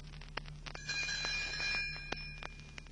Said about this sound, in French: Elle fera tinter ses petites cloches